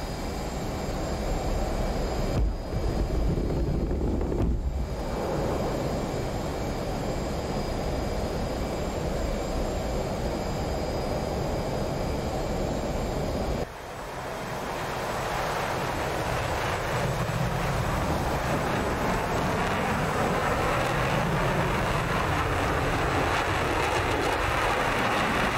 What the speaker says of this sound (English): Full throttle, afterburners.